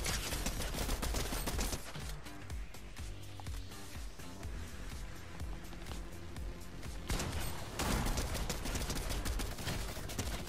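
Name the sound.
gunfire in video game Fortnite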